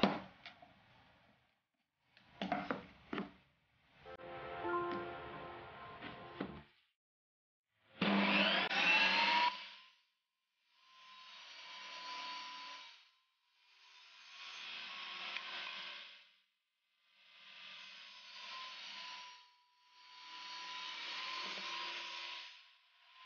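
A saw cuts HMR board into pieces 60 mm wide, in several separate rasping bursts of a few seconds each with short pauses between them, close and fairly loud.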